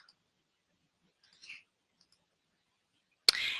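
A single sharp computer mouse click lands near the end after near silence, followed by a short faint hiss. Earlier there are only a few tiny, barely audible ticks.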